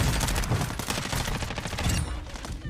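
AK rifle fire in the Warzone 2 video game: dense, overlapping bursts of gunshots crackle nonstop and loudly through the whole stretch, with no voices heard.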